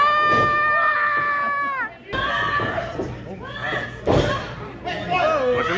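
Several people let out shrill, high-pitched screams one after another, mimicking the Mario character Toad, loud and close, with shouting and chatter mixed in during a trip to a pro wrestling event.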